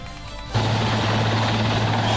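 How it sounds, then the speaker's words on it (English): A news helicopter roars in abruptly overhead, its loud, steady rotor and engine drone filling the air and holding without a break. "It originated from a helicopter, probably belonging to a news station."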